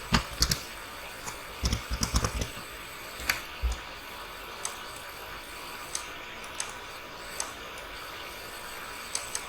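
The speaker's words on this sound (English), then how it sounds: "Now I'm going to type it." Typing on a computer keyboard, with scattered key clicks in short uneven bursts, busiest early and thinning out later, fairly quiet over a steady background hiss.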